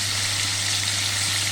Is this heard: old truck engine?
no